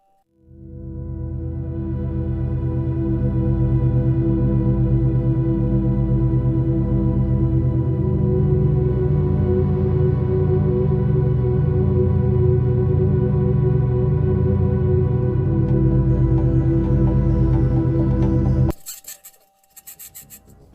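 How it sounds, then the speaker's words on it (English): A Mars rover beginning to move makes a steady grinding, rasping mechanical drone that holds loud and even for most of the recording, then drops away into a brief burst of sharper metallic noise at the end. "Here we hear the Mars rover starting to move, followed by metallic tapping sounds."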